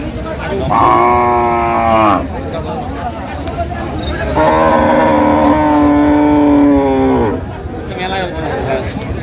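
Cattle moo loudly at a livestock market where thin dairy cows are traded, two long drawn-out lowing calls close by, with crowd chatter and bargaining voices running underneath.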